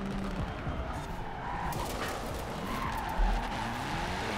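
Tires skid and squeal steadily as a car drifts around a track, a loud continuous screech over engine drone, with a brief bump near the end.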